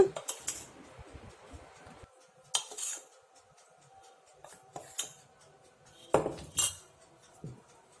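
Cake batter of butter and plain flour gently folded in a bowl, with scattered metallic clinks and scrapes of a utensil against the bowl, close and intermittent with quiet pauses between strokes.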